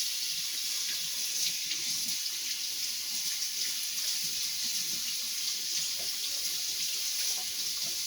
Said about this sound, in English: And we'll wash that with a nice hard stream of water.